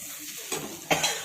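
Ground peanut and Kashmiri red chilli powder masala sautéed and stirred in a pan, a steady close sizzle with spatula scrapes on the metal and no talking.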